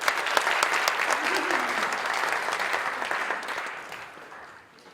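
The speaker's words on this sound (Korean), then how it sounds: "우리 이풍인 교수님에게 다시 한번 감사의 박수 드리겠습니다." A church seminar audience claps for a visiting professor, a dense round of applause that holds steady and then fades away near the end.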